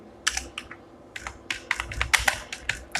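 Typing on a computer keyboard while composing a website post, with bursts of fast, close, crisp key clicks separated by brief pauses.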